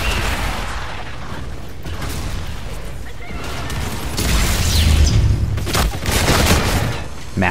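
Enemy bombardment lands in Call of Duty: Infinite Warfare Mayhem mode: loud, dense rumbling booms and crashing impacts that swell toward the middle, mixed with mechanical clatter and game sounds.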